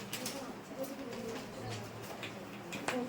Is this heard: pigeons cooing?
yes